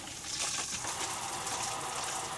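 Water from a newly turned-on outdoor shower sprays and splashes in a steady, full hiss, close and continuous with no talking.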